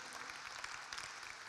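Steady audience applause for staff and partners at a Somali Week Festival launch event, a dense, even wash of clapping heard from some distance at a faint level, with no break for the whole stretch.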